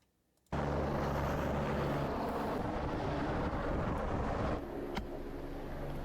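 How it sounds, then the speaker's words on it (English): Rescue helicopter over Australian floodwaters, starting abruptly and holding a steady, loud rotor and turbine roar with wind buffeting, no speech. "This is the helicopter rescue."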